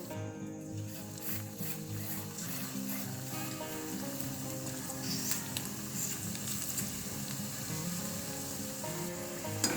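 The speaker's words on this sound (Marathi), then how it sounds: "बाकीचे सुद्धा आपण असेच तळून घेऊ।" Spinach bhaji fritters deep frying in hot oil, a steady close sizzle with soft bubbling crackle running evenly throughout.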